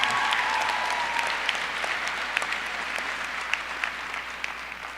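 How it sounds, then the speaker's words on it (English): Steady applause from a crowd at a high school graduation ceremony, dense clapping holding at an even level for the full stretch with scattered sharper claps standing out, no talk over it. "Let's give another round of applause to those who have presented already and broken the ice."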